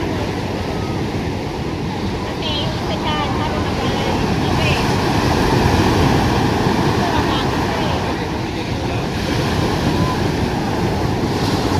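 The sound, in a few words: large ocean waves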